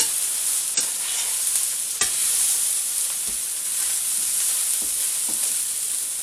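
Chicken Kiev pieces and vegetables stir fry in a hot pan, a loud, steady sizzling hiss punctuated by a few sharp utensil knocks and scrapes.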